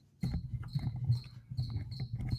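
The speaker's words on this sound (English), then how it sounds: "You can hear the crickets, Sterling?" Crickets chirp outdoors in repeated short pulses over a low, rustling background, close and moderately loud.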